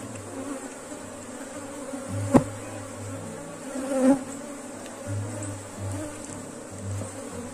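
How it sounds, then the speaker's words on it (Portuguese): A populous swarm of honeybees hums inside a hive, a dense, continuous close buzz with a couple of brief knocks and rustles partway through. "que enxame populoso"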